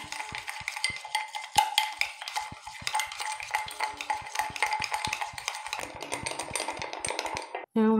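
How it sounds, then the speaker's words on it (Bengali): A spoon or whisk beats coffee, sugar and water in a cup, giving a rapid steady stream of close, bright clinking taps against the sides for several seconds. "এবার এটাকে ভালো করে ফেটে নেবো।"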